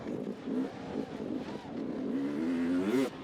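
An enduro motorcycle engine revving on a wooded downhill course, rising and falling as the throttle works through roots, moderately close and building in pitch toward the end, with no talking.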